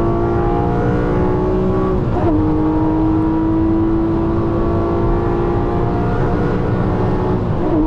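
A Porsche 718 Cayman GTS with its 4.0-litre engine, heard revving hard under acceleration as a loud, sustained droning howl; the pitch dips briefly in a gear change, then climbs steadily again.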